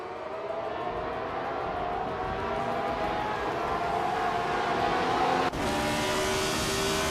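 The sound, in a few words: race cars starting a race at Bathurst in a racing video game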